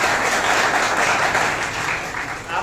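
A hall audience at a teacher appointment-letter ceremony in Vadodara bursts into dense, steady applause for the Education Vadodara team, a loud continuous wash of clapping that holds without a break.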